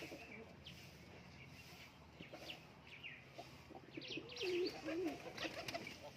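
Fancy Lotan pigeons coo softly inside a loft, with low, quiet warbling calls and a few scattered chirps, the loudest cooing coming in the last couple of seconds.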